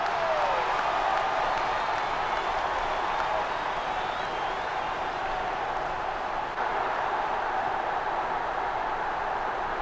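Stadium crowd in an AFL Evolution football match, Bulldogs versus Swans, producing a continuous broad roar of cheering and scattered applause that stays loud and even throughout.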